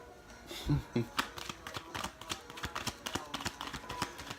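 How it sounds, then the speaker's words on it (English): Tarot cards being shuffled close by, a rapid run of crisp flicks and taps after a few louder handling knocks. "Can I just shuffle some cards?"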